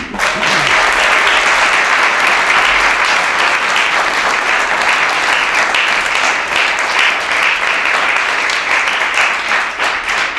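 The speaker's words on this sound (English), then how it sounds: "They deserve a round of applause." Loud, sustained applause from a large crowd at a presidential speech, dense clapping that holds steady throughout without letting up.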